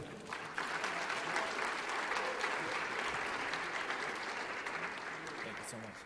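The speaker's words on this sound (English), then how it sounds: "give a huge round of applause for Manol Georgiev" A business conference crowd gives a warm round of applause as a speaker is welcomed to the stage, rising quickly and holding steady, dense clapping that fades slightly toward the end.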